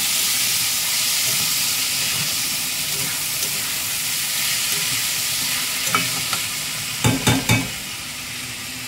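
Washed basmati rice fried and stirred in a pan, producing a continuous close sizzle with a few sharp scraping stirs toward the end.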